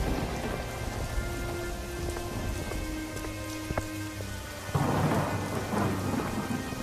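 Heavy rain pours steadily in an animated cartoon, with a loud crack of thunder around the middle and a heavier rumbling surge of downpour near the end, no voices.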